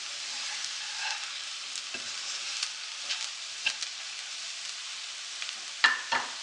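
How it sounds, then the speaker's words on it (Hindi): Spices frying in a little oil for potato samosa filling, a soft continuous sizzle close by with occasional scrapes and taps of a spoon stirring the pan. "ऑयल आपने थोड़ा सा ही डालना है, ये मसाले फ्राई हो जाएं।"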